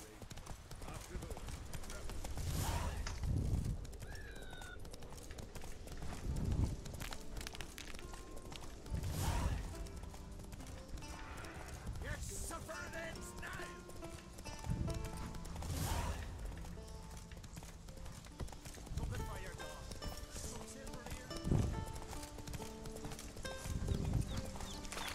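Roach the horse gallops in The Witcher 3, a steady clip-clop of hooves at a running rhythm with occasional heavier thuds, mixed with game music and ambient effects throughout.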